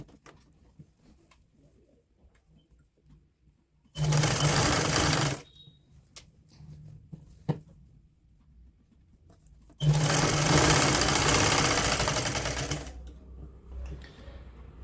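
A sewing machine stitches a woollen kurti in two loud, steady runs of about one and three seconds, with quieter gaps between where a pigeon coos faintly in the background.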